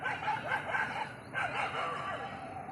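A dog barks repeatedly during a fight with a monkey, giving a dense run of sharp, close barks that keep going with little pause, with no speech over them.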